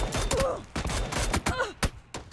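Heavy gunfire during a PUBG match on the Miramar map, with several teams shooting at once. Dense bursts of sharp shots and loud cracks come in uneven clusters, close and loud, with brief gaps between volleys.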